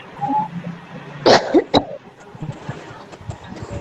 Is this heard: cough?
yes